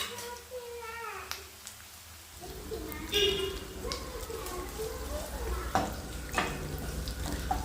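Onions fry in oil with a lively sizzle, and a spoon scrapes and stirs the pan in repeated strokes for wedding-style shavige uppittu, while a person talks over parts of it.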